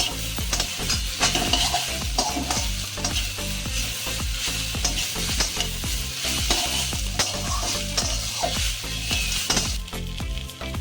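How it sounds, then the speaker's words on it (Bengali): Crushed fish heads frying with greens in a pan, a dense crackling sizzle under constant rhythmic stirring and scraping against the pan, near and loud throughout, no speech. "মাছের মাথাগুলো গুঁড়িয়ে নিয়েছি এতে আমি দিয়ে নিচ্ছি সব একসঙ্গে ভেজে নেব"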